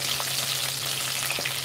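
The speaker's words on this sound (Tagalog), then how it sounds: "Super talsik kasi diba ma-water itong ating pepper" Watery pepper sizzles and spits in hot oil for a chicken curry, a close, steady frying hiss with a couple of sharp pops and splatters.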